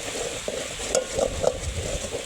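Spices sauté in a pan with a close, continuous sizzle and frying crackle, broken by a few sharp stirring scrapes and taps of a utensil against the pan, with no voices.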